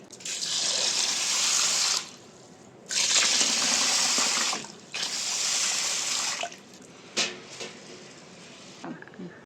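Water pours into a container of jowar (sorghum) grain for soaking in three loud splashing bursts with short pauses, then a few softer trickles and drips.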